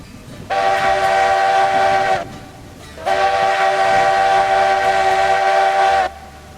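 A locomotive in the railroad simulation game Railroads Online sounds two long, loud, steady whistle blasts, each about two seconds, separated by a short gap, with a low rumble underneath and no talking.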